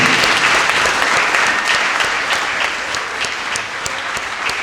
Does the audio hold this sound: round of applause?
yes